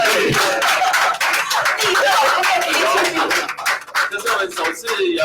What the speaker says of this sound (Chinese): 来宾，请掌声鼓励。